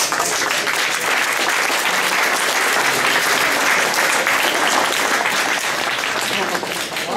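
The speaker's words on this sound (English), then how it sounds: "I'd really like just a round of applause to all of you all for coming out today" Sustained applause from a large crowd, steady and loud throughout, dense clapping filling the whole stretch.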